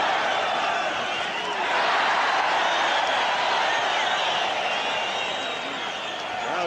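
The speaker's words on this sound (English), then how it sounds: "Crowd came alive with a Sanchez left." A boxing arena crowd roars steadily at a left hand from Salvador Sanchez in his bout with Juan Laporte, a loud, sustained wash of cheering that swells slightly midway.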